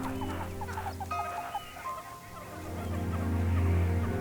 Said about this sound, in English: their incessant begging calls aren't working